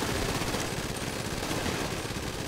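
Gunfire in the GTA 5 video game rattles in a dense, continuous volley of rapid shots, steady and moderately loud throughout without pause.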